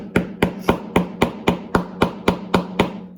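A small hammer taps Sig M17 CO2 pistol parts back into place, ten sharp, evenly spaced metallic knocks in a steady rhythm, close and fairly loud with no talking.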